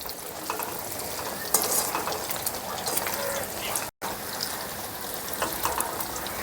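Ash gourd flower fritters in a rice-flour batter fry in hot oil, giving a steady, close, crackling sizzle that drops out for a moment midway and then carries on.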